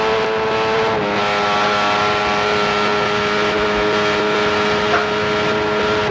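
Benelli 350cc racing motorcycle at full throttle on-board during the 1993 Manx Grand Prix, a loud, steady high-pitched engine wail held flat out on a long downhill straight with wind roar.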